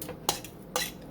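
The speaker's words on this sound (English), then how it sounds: "Is dump this back in the" Shredded chicken dumped back into a crockpot while making chicken and dumplings, two quick clattering clanks of a metal utensil against the pot with a soft rustle between them, close and with no talk.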